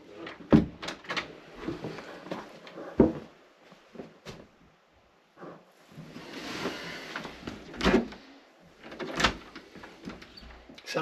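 A loose, faulty door at the Four Crosses drifts open on its own in a draft, giving several irregular knocks, bumps and rattles at close range, while people speak quietly in between.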